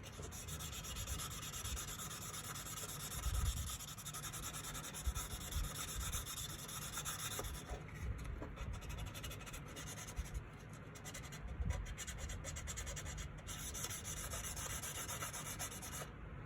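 A rusty pocket knife blade is rubbed steadily on finer-grit sandpaper, giving a continuous close scratching and rasping with small rhythmic variations and no talk.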